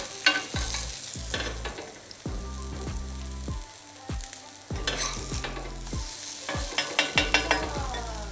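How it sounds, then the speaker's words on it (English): Food sizzles and fries in a hot pan while a utensil stirs and scrapes it around, giving repeated sharp clacks and scrapes over a steady, close crackle from the plant-based ingredients. "Move them around the pan because the pan has heat in all separate places, right?"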